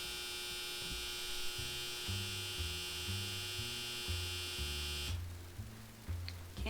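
A clothes dryer runs with a steady, droning electrical hum, while low tones shift step by step beneath it, constant and fairly loud throughout.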